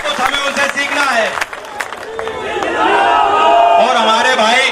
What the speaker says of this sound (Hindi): मैं चाहता हूं उनके लिए आप विशेष ताली बजाओ